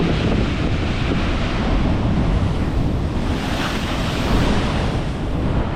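Big ocean waves break at Dogheads Rock in a continuous heavy roar of surf, loud and close, with constant wind buffeting over it and no voices.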